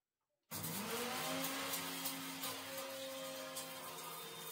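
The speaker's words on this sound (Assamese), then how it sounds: "তাৰপিছত মই ঠাণ্ডা হ'লত এয়া মিক্সি জাৰটোত পিচিব লৈছোঁ" Fried spices are ground in a mixer grinder jar, the motor starting abruptly and then whirring loudly and steadily with a gritty rattle, heard close up on its own.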